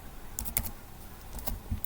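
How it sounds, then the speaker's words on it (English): Several quick keystrokes on a computer keyboard while a sentence is typed into a blank document, sparse clicks spaced irregularly over a low room hum, fairly faint and close. "Let me type this sentence here."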